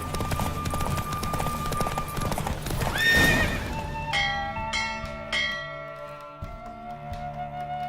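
A horse in the video game The Witcher 3 gallops with steady, rapid clip-clop hoofbeats and gives a clear neigh, while bell-like game tones and music ring out over the running.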